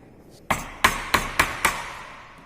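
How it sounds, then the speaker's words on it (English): Five sharp mallet-driven chisel strikes into a wooden workpiece during carpentry, removing material layer by layer, spaced evenly and close, each with a quick decaying ring and no voices. "So now we can do the chiseling operation part."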